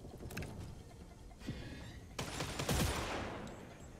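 Gunfire in the video game Redfall: a faint, muffled flurry of shots that swells into a denser, louder volley toward the end, with no voices.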